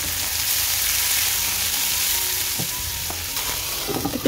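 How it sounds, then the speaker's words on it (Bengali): Sliced onions fry in hot oil with a pinch of salt, a steady close sizzle with a few scraping stirs and clicks toward the end. "পেঁয়াজটা যাতে তাড়াতাড়ি নরম হয়ে যায় অল্প একটু নুন দিয়ে ভাজবো।"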